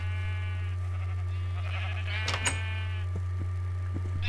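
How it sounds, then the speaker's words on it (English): A Minecraft sheep bleats in a quavering, wavering cry over a steady low electrical hum, with a few faint clicks and taps in the background. "Oh, sheep. Let's kill the sheep and now turn into it."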